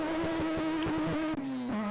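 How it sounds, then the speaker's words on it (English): Group B Mazda RX-7 rally car at a forest rallysprint, its engine held at high revs in a loud, steady buzzing drone that dips briefly near the end before climbing again, close by with no talk. "There we go, some pretty big revs from the RX-7, the Group B RX-7."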